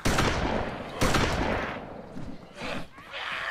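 Shotgun blasts in the zombie survival game DayZ: two loud, close booming shots about a second apart, followed by a burst of quicker distant gunfire fading in and out.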